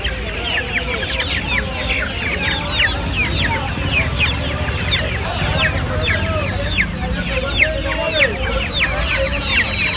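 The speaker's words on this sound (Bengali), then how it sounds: "অস্ট্রেলিয়া মুরগির একটু বড় সাইজের বাচ্চা আছে দেখুন" Australian breed chicken chicks at a pet market, many chirping and cheeping rapidly and continuously close by, with clucking and people talking in the background.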